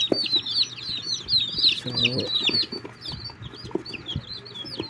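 A newly hatched Dumpo Shamu chick chirps in a run of high, rapid peeps. Lower clucks from nearby fowl sit under them, and a voice speaks briefly.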